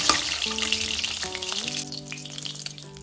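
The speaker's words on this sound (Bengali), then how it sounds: "আমি এখানে ছ পিস মাছকে বোদাতে ভেজে নেবো" Rohu fish pieces fry in hot oil in a pan, a steady bright sizzle that gradually softens, with faint tonal hums and no talking.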